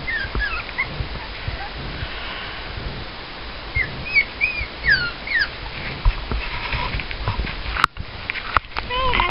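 Several five-week-old puppies whine and whimper in high, wavering cries, with snuffling sniffs and faint rustling close by.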